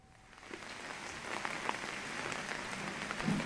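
Steady rain falls on a Jammu morning, a soft, even patter of drops on surfaces that builds slightly over a few seconds, with scattered sharper taps and no voices.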